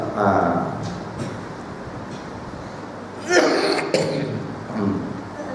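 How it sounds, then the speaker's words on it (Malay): A man in a surau coughs and clears his throat a few times. The rough bursts come near the start and middle, over a noisy room background. "Batuk ni teruk"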